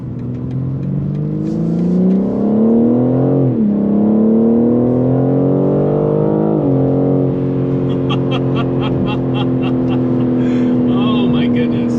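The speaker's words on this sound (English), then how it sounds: "I want to try to give you the best sense I can of what this car sounds like" A BMW G82 M4 Competition accelerates hard up an on-ramp, its engine roaring loudly and rising in pitch, dropping briefly at two upshifts before climbing again, with a steady cruising drone at the end.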